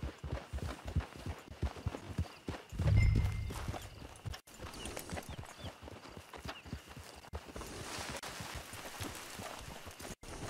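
A horse in Red Dead Online clip-clops along at a walking pace, hooves landing in a steady close rhythm with a brief low rumble partway through.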